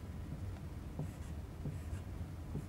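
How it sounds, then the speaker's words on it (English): Chalk or marker writing on a classroom board during a calculus lecture, heard as faint, scattered scratchy strokes and taps over a steady low room hum, with no talking. "So let's write it here."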